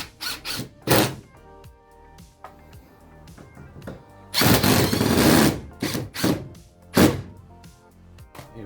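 A power driver sets screws into a caravan's Esky cargo door, with several short whirring bursts, one longer sustained run and a few clunks, close and fairly loud.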